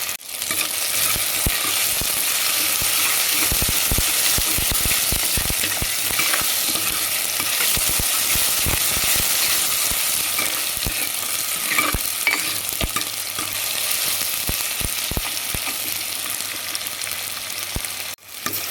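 Rasam ingredients for a village-style country chicken rasam sauté in a pan, a steady loud sizzle broken by frequent sharp scraping stirs, with no voices.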